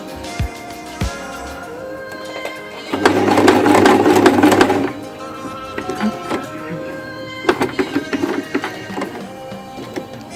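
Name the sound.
sewing machine stitching a zipper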